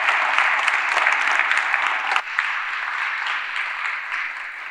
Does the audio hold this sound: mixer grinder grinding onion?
no